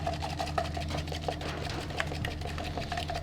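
A power mixer whirs through glue and hardener in a pot, a steady motorized rattle with rapid regular pulses and a faint mechanical hum, close by, no talking.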